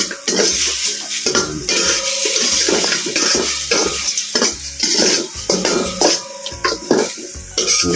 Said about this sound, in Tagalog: At haluin natin para hindi siya magdikit-dikit dito sa ating kawali.